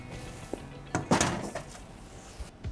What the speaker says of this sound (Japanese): じゃあ冷蔵庫をしまっておきます。